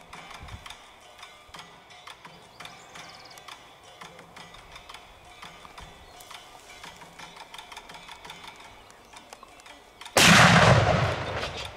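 A rifle shot fired at a free-range buffalo during an African hunt cracks loudly near the end, a single sharp blast after a long stretch of quiet outdoor ambience with faint ticking insects.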